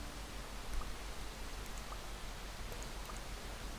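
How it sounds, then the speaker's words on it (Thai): Rain falling as a constant soft hiss with occasional faint drops, even and unbroken throughout, with no voices. "ฝนตก"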